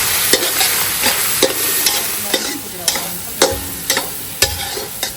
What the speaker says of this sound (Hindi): चलो जी, मसाला हमारा भुन रहा है।